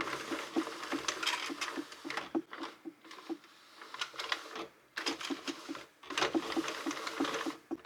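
A Sentro knitting machine works yarn into a sweater, giving a steady rapid clattering with rhythmic clicks that pauses briefly twice before resuming, close and moderately loud.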